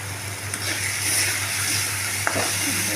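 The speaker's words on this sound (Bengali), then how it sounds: "কষিয়ে কষিয়ে নিচ্ছি।" Chana dal with green chili and dry chili powder being sautéed in a pan, a continuous dense sizzle with a couple of sharp stirring knocks, close up and without speech.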